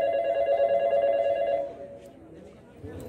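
A steady electronic telephone ring tone sounds for about a second and a half, then cuts off, leaving quiet room noise.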